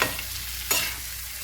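Mutton frying in a pan while being stirred, a steady close sizzle with one brief scraping stir partway through, no voices.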